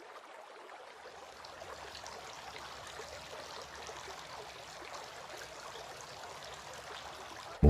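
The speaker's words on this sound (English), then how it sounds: "Washing the hands." Water runs steadily as hands are washed for Islamic ablution (wudu), a continuous close splashing flow that fades in and carries on alone without any talk.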